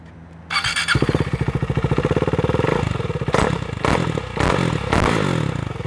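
Up close, a motorcycle starts and runs with a loud, choppy rumble, punctuated by several quick throttle revs that rise and fall.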